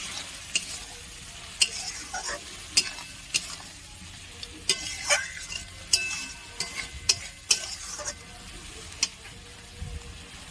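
A spiced sattu mixture is stirred and fried in a pan, a close sizzle punctuated by frequent sharp spoon knocks and scrapes against the metal.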